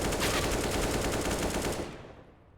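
Rapid, dense gunfire from a Counter-Strike match on Dust2 during a pro esports qualifier, a loud burst of overlapping shots that rattles for nearly two seconds and then fades out.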